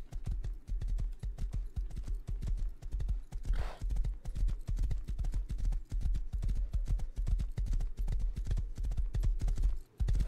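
Horse hooves clip-clop in the survival video game Rust, a fast steady run of hoofbeats close and loud throughout, with no one speaking.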